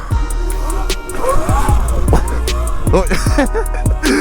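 An E-Ride Pro 2.5 electric moped, street legal, throttling with a loud steady motor whine and rising, sweeping pitch changes, close up, with wind rumble throughout.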